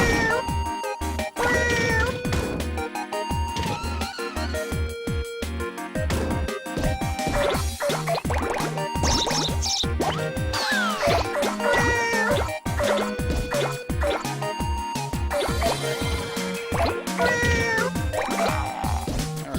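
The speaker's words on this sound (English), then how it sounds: "Is that a cat pulling like a rickshaw?" A cartoon cat meows repeatedly in the video game Katamari Damacy, the calls mixed into loud, continuous, busy game music.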